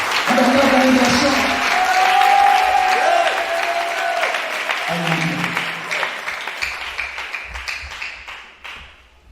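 An audience at a church sermon applauds and cheers, with sustained dense clapping and raised voices that gradually thin out and fade toward the end.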